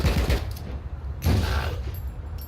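Rapid gunfire and explosions from the side-scrolling game Rocketbirds: Hardboiled Chicken, a sustained loud burst of shots, a brief lull, then another heavy volley with no talking.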